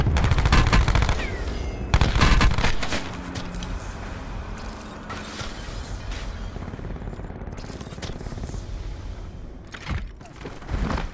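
Gunfire in Black Ops 4 Blackout battle royale: sharp bursts of automatic fire and single shots, loud at the start and again near the end, with mechanical clicks between.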